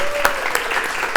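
Audience at a university round-table session applauding to welcome the mediator, a brief, steady burst of clapping close by.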